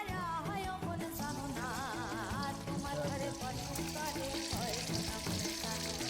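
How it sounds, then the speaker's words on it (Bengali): Oil heats in a kadai for a dal tempering at an outdoor picnic in a field, giving a close, continuous sizzling crackle with other tonal sounds running over it throughout. "এবার ডালের ছোঁক দেওয়ার জন্য আমরা তেলটা দিয়ে দেবো কড়াইয়ে।"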